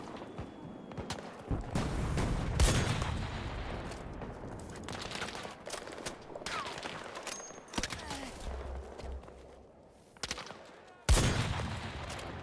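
Battlefield battle gunfire: scattered loud shots and bursts, some near and cracking, others more distant, with a heavy blast late on, over a busy battlefield background with occasional voices.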